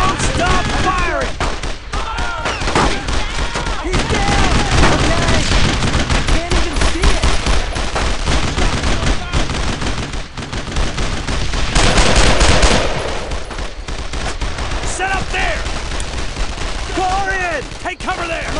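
Heavy, continuous gunfire in the World War II shooter Brothers in Arms: Road to Hill 30, with dense machine gun bursts and rifle shots overlapping for the whole stretch and shouting voices mixed into the din.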